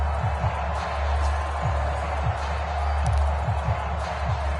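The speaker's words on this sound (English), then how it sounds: "that might be exactly what they needed to wake up this home crowd" Home crowd in a PS4 football video game, a continuous loud roar of cheering with low rhythmic thumps and swells throughout, and no clear talk.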